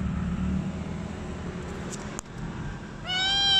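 A cat meows once near the end, clear and close, after a stretch of low traffic rumble.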